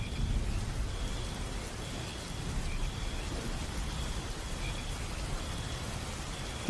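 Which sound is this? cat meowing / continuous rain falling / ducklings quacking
continuous rain falling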